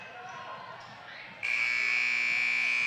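A basketball game buzzer, Lakin Broncs vs Sublette, sounds at the end of the first half: a loud, steady electronic tone cuts in partway through and holds to the end over a murmuring gym crowd.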